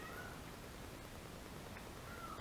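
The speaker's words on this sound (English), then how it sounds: "Can you guys hear the cat?" A house cat meows faintly somewhere in the room, with two short, thin calls heard at a distance against a steady background hiss during a watercolor painting session.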